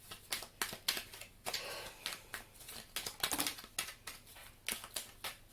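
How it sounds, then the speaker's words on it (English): A deck of tarot cards being shuffled during a reading, with repeated crisp riffling bursts and flicks in an irregular rhythm, close up and fairly quiet, with no talking. "I just stopped shuffling, and the Justice card is at the bottom of the deck here"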